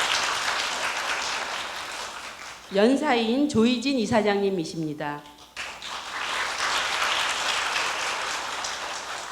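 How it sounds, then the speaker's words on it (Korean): Audience applause welcoming guests at a Korea University lecture event, steady clapping that breaks off while an announcer introduces a speaker, then resumes and carries on. "박수로 맞아주시기 바랍니다"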